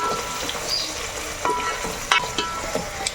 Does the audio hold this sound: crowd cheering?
no